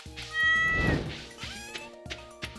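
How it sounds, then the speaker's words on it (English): A cat meows in Stardew Valley as it is petted, giving a few clear, close game meows over soft background music. "Let's pet the cat."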